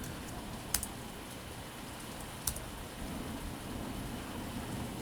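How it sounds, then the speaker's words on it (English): Rain falls steadily with two sharp, distant cracks of thunder early on, then the downpour keeps hissing evenly without voices. "A bit of thunder."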